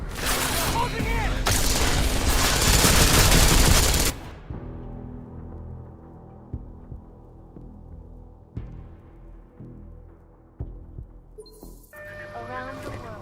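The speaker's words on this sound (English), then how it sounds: "Gunshots! Closing in!" Gunfire in the video game Deus Ex: Mankind Divided, a loud, dense burst of rapid shots for about four seconds, followed by quieter scattered thuds and clicks, then a brief chime near the end.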